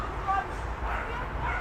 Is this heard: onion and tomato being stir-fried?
no